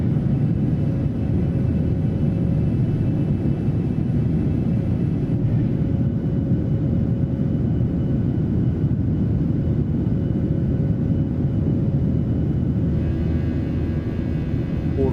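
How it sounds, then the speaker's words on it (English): Airliner engines roaring in a flight simulator game, a loud, steady, broadband roar with a deep rumble that holds unchanged throughout, no voices. "the plane is absolutely roaring"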